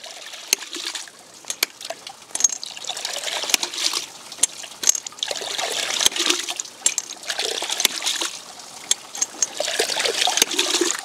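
Water trickles and splashes continuously around a ram pump, with sharp clicks as the valve is pushed by hand several times in winter conditions.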